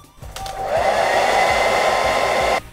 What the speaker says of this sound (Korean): 먼저 드라이기를 이용해서 손끝을 건조하게 해서 눌러보겠습니다